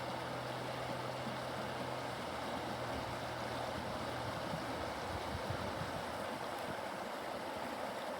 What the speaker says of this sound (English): Nice running water sound.